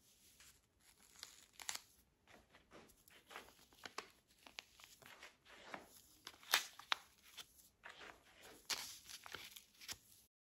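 Paper sewing pattern piece slid and shifted over fabric, giving soft crinkling and rustling with scattered louder crackles, close and fairly quiet, with no talk.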